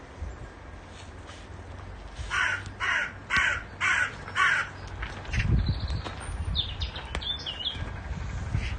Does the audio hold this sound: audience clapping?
no